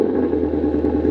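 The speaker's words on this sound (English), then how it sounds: "We'll fire the car back up." A Ford Mustang engine starts and rumbles loudly and steadily at close range, a deep continuous idle with a slight clattering texture.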